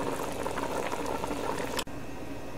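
Lentils for shami kabab bubble in a pot of boiling water, a steady close rolling burble that runs without a break and is heard alone with a brief click near the end.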